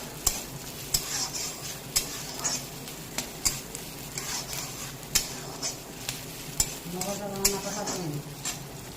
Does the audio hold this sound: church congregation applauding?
no